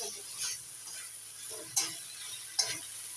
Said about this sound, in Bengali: ভেজে রাখা আলু মশলার সঙ্গে একটু ভালো করে কষিয়ে নিয়ে